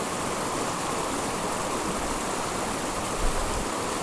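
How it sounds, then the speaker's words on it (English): A small mountain stream rushes steadily between rocks, a close, continuous broadband wash of flowing water with no break across the few seconds. "Oh, a little stream coming this way too."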